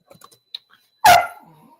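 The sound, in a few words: dog barking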